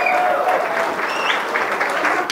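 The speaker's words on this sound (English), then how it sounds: "Fatih Magari, we have to give you a big clap" An audience at a talk bursts into a big round of applause, dense steady clapping filling the whole moment without a break.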